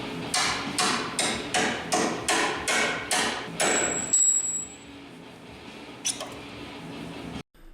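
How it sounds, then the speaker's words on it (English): About nine sharp, evenly spaced hammer blows ring out on a metal punch against a lower strut bolt on a 4th-gen Toyota 4Runner, close and loud, then the tapping stops and faint workshop noise remains. "Use a hammer followed by a punch to remove this lower bolt."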